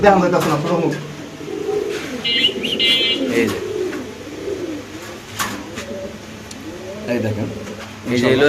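Indonesian pigeons, large high-quality birds at a pigeon seller's, coo in repeated low rolling calls close by, overlapping one another under people talking throughout.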